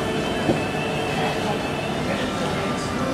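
Hong Kong MTR train at Causeway Bay Station gives a steady, loud rumble with a faint whine, heard from inside the station or carriage, with people talking underneath.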